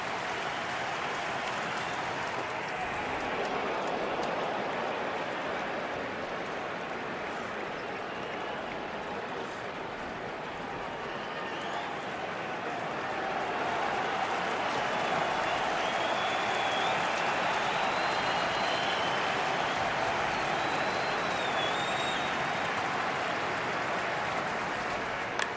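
A baseball stadium crowd at a Red Sox wildcard playoff game cheers and applauds steadily, a dense distant roar of clapping and voices that swells slightly and holds throughout.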